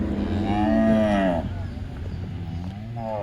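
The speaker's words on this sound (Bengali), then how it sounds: "মোটামুটি এটা হচ্ছে গাভী" A dairy cow on a farm lets out a long, loud nearby moo, followed by a quieter second low call against faint farm background noise.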